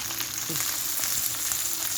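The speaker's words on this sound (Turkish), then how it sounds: "Biberimiz böyle kızarıyor sevgili arkadaşlar." Green peppers, including capia peppers, sizzle as they fry in a pan, a steady crackling hiss with small pops, close and unbroken across the short stretch.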